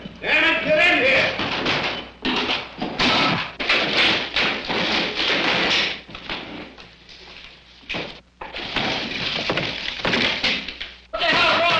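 Thumps of pounding on a door during a tense scene in a 1960 film, the blows heard under loud, near-continuous shouting.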